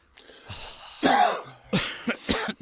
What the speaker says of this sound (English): We are some coughing fools tonight